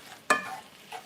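Seasoned ground meat browning in a pan for Zuppa Toscana soup, with one brief, loud scrape-and-sizzle burst from a stir, then a soft fading hiss and a faint second scrape.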